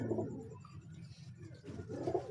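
A big breeder cross pigeon coos in two soft, throaty bursts, one at the start and one near the end, close by with no talk.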